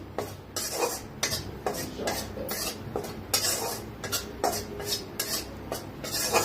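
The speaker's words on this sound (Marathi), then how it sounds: "1 चमचाभर बेसन भाजून घ्यायचं आहे" Gram flour (besan) dry roasting in a kadhai, heard as brisk repeated scraping and clinking of a metal spoon against the pan. The strokes come in a quick, even rhythm, close and fairly loud, with a faint sizzle underneath and no talk.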